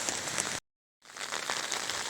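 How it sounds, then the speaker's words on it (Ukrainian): Steady rain pours onto flooded ground and standing water outdoors, a dense continuous hiss with a short gap of silence partway through. "Надовго значить дощ."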